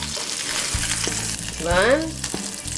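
Chorizo and cheese taco frying in a very small pan, a soft steady sizzle with a brief scrape of a utensil, while a person counts aloud over it.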